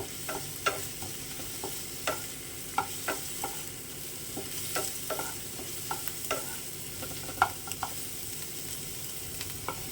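Two dry red chillies fry in a small amount of ghee for temple-style dalma, a soft continuous sizzle with scattered sharp pops and crackles close by.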